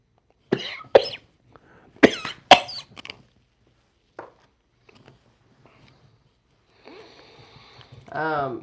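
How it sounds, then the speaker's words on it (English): Several sharp coughs in a row near the microphone, followed by quieter sniffs and throat noises, with a brief voice at the end. "You're about to start coughing."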